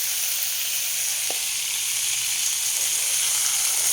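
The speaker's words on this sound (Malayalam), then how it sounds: "തിളച്ച വെള്ളമാണ് ഒഴിക്കുന്നത്." Boiling water poured into a hot pan of kovakka (ivy gourd) curry sets off a steady, loud sizzle and hiss that holds evenly throughout, with no voices.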